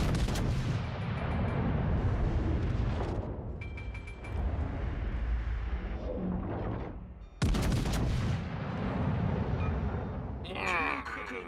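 Naval guns firing at a target in a video game, heavy booming blasts with a rolling, rumbling tail, one large shot near the start and another midway, with voices heard faintly under the barrage.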